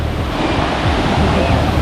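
Ocean surf rolls in a continuous loud roar on the French coast at Biarritz, with heavy wind buffeting the microphone during a surfing session.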